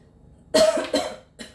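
Two sharp coughs in quick succession, close and loud, followed by a softer third cough, in a kitchen while chili powder is added to a mutton curry.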